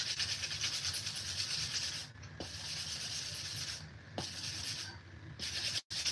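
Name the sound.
sanding a tumbler cup with sandpaper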